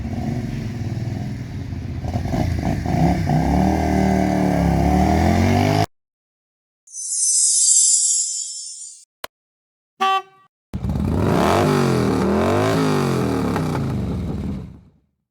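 A Bullit V-Bob 250cc V-twin motorcycle engine revs loudly and close in two long bursts, its pitch rising and falling, with a short quiet break between them marked by a hiss and a couple of sharp clicks.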